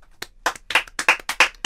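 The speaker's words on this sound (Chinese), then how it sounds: "掌声鼓励" A few podcast guests clap in a quick, uneven burst of sharp hand claps, close and clear in a small studio, with no talk.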